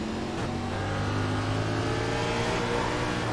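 Race car engine in iRacing at Martinsville, droning and revving steadily as the throttle comes back on, loud and continuous with no talk over it.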